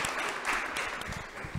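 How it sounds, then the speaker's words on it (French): An audience at the Montréal Inc. awards evening applauds a prize winner, a brief, dense burst of clapping with a few low thumps near the end. "Oui, on applaudit."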